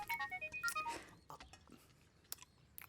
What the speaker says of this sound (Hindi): बेकार का फोन है, बार बार रिंग बजती है